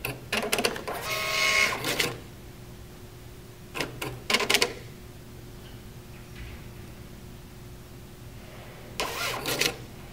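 A Star Micronics TSP650II receipt printer whirs and chatters in short bursts, printing a self-test slip, with quiet pauses between runs.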